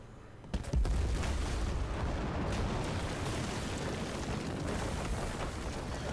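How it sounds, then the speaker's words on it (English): A large section of a bridge blown apart by a detonation box on the Dragon's Teeth map in Battlefield 4: one heavy boom near the start that rolls into a long, loud, sustained rumble of collapsing debris. "if you use this box and wait a few seconds, it will actually destroy a large section of the bridge"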